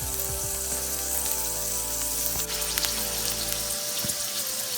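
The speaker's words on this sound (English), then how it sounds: "Now the pan is hot and sizzling." Onion frying in cooking oil in a hot pan, a steady close crackling sizzle with scattered pops and a low background hum throughout.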